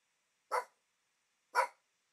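Two sharp dog barks about a second apart, close and clear, with silence around them.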